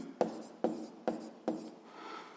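Pen strokes scratch across paper in four quick, evenly spaced bursts, each a short sharp scrape, with a softer rub at the end; close and quiet, no voices.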